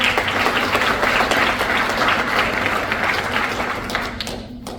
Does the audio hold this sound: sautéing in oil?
no